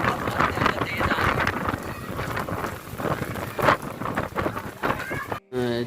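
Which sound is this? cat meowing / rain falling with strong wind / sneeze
rain falling with strong wind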